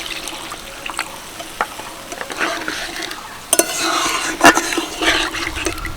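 Water poured into a pan of fried jackfruit and stirred for a gravy, with a soft steady sizzle, scattered scraping spoon strokes and a louder splash and clatter in the final seconds.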